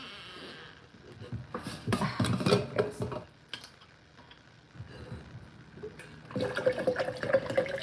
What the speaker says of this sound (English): I just need to fill up my water too.